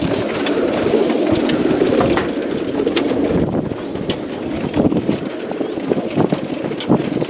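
Young racing pigeons held in a yearling trailer coo and flutter continuously, close and fairly loud, with wing flaps and scuffling throughout and no talk.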